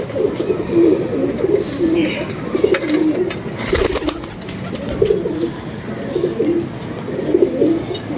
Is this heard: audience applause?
no